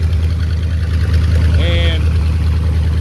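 A Mopar 413 V8 paired with a 727 transmission runs on a test stand with a loud, steady low idle rumble and a brief higher whine partway through, close and continuous.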